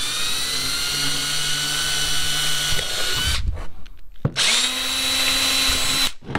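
A power drill bores holes through a kayak hull at a template, whining loudly and steadily, then stops briefly between holes before starting up again close by.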